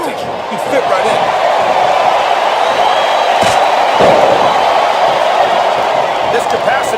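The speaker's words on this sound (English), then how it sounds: "This capacity crowd is making their opinions known tonight." A packed arena crowd in the video game WWE SmackDown vs. Raw 2007 gives a loud, steady roar that swells slightly and holds throughout.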